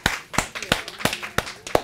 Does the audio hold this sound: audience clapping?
yes